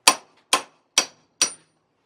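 A hammer strikes a chisel to fold in the lips of Condor bushings on an E46 build, four sharp metallic blows spaced about half a second apart, loud and close, each decaying quickly into silence.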